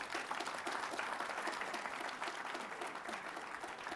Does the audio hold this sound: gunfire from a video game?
no